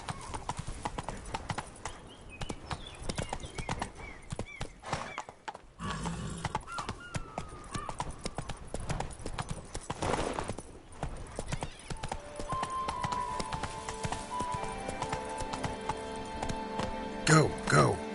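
Roach, the horse in The Witcher 3, trots with constant rhythmic clip-clop hoofbeats and lets out neighs, while someone talks over the game sounds.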